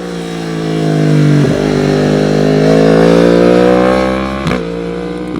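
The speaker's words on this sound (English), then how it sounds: "Beautiful sounding bike from Ben on the R1, really nice" A Yamaha R1 superbike races along a track straight, its high engine note climbing and sustaining loudly as it passes close, with brief gear-change dips, alone without talk.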